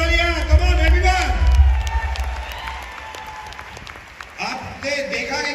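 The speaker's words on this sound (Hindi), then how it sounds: "एक बार जोरदार तालियां" An audience at a Vestige direct-selling company stage event bursts into loud applause and cheering that fades over several seconds, with a voice on the microphone talking over and after it.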